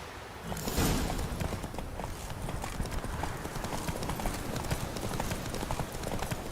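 Roach the horse gallops in The Witcher 3, hooves pounding in a fast, steady clip-clop rhythm over a wind-like rush, loud and close throughout.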